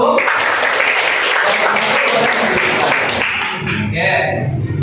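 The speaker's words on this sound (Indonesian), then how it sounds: "Beri aplaus dulu yang mulia untuk kelompok 1" Applause from a class for a student group after their presentation, a steady burst of many hands clapping in a room for several seconds before it fades and a voice begins speaking.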